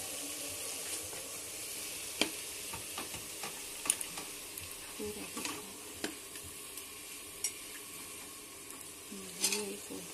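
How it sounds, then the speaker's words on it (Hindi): Onions fry softly in a pan with chopped ingredients for a keema dish, making a faint, continuous low sizzle with scattered light clicks and scrapes from stirring. "देखिए प्याज हमारी नरम सी होने लगी है, आप देख सकते हैं।"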